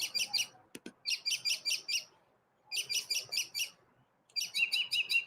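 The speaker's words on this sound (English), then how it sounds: "I think this is the loudest, longest Chirpy has been going in a long time" A pet bird chirps loudly in rapid bursts of high, repeated tweets, four long runs separated by brief pauses, with a short knock between the first two runs.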